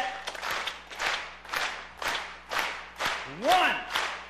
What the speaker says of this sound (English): Let's get a clap going, everyone.